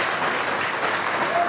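Devotees clap at a religious gathering, a dense, even wash of applause from a crowd held at steady loudness throughout.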